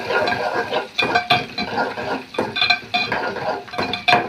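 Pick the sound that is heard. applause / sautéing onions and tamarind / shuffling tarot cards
sautéing onions and tamarind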